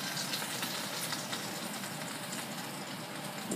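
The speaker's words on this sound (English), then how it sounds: "And it's good. Sizzling." Chicken wings fry in a pan with steady sizzling and crackling, a continuous hiss with small pops throughout.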